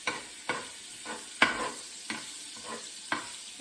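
Roughly a tablespoon of minced garlic sizzles in a hot pan for a rosemary garlic shrimp pasta. A utensil stirs it in quick, regular strokes, about two per second, each stroke lifting a bright hiss over a low, steady fry.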